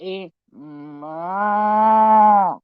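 A person's voice imitates a cow, first with a short clipped note and then a long, drawn-out, low mooing groan that swells and fades, loud and close.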